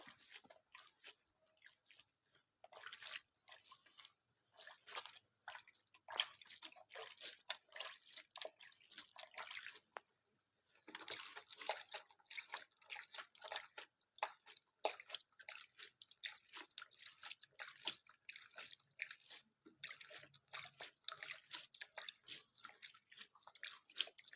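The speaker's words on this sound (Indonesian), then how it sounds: "Sambil siram-siram airnya yang dari samping." Water drips and splashes softly onto wet batik fabric in irregular patters and squishes, close and quiet, with short pauses between bursts.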